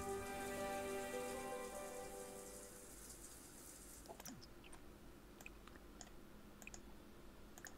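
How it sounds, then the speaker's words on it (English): Running shower water in The Sims 4 sets up a steady hiss under fading background music. The music then drops away, leaving a soft spattering patter on its own. "Okay, let's finish taking a shower."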